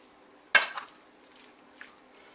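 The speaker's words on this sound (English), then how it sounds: "I'll get a fork and just kind of mix it" Fork mixing a steak marinade in a bowl, one sharp close clink of metal against the bowl, then a softer scrape and a faint later tap, in a quiet kitchen.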